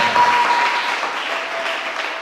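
A church congregation, standing during a worship service, breaks into sustained loud applause, a dense wash of clapping that carries on without pause.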